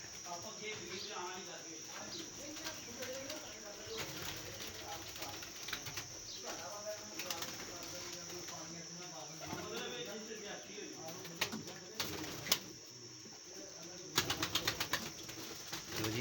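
A released champion racing pigeon flaps its wings and coos faintly outdoors amid clicks and background clatter, with people talking intermittently over the low bird sounds.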